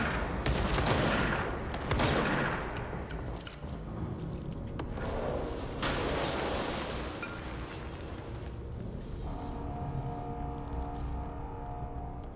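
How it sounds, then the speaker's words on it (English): Shotgun blasts in the action video game Control, several heavy booming shots amid a dense, continuous barrage of gunfire and impacts, with a sustained tonal hum rising near the end. "I'm feeling this shotgun already."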